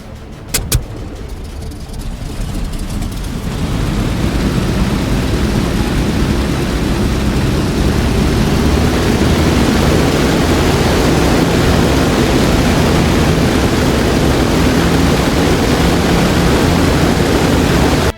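A P-47D's radial engine in DCS World catches after a brief whine and clicks, then builds into a loud, steady, rumbling roar that holds to the end with no talk.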